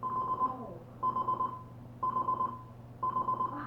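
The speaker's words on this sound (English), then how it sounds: "Oh, it's the alarm clock." An alarm clock goes off at midnight during a ghost hunt in Cripple Creek, sounding repeated clusters of rapid electronic beeps roughly once a second over a low background hum.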